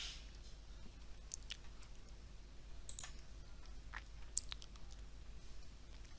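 Sharp mouse clicks on a computer, a few scattered taps standing out over a faint steady background hum, with no talking.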